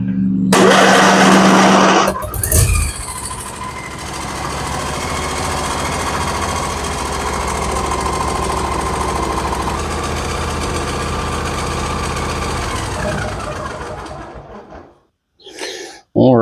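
A John Deere 125 automatic lawn tractor engine, being serviced, starts with a loud burst and then runs at a steady, close, droning idle for most of the clip before shutting off near the end.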